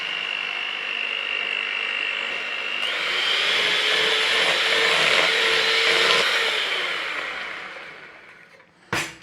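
An electric hand mixer whirs at slow speed through flour in a sponge batter, a steady motor whine that rises in pitch midway, holds, then drops back before a short clatter at the end.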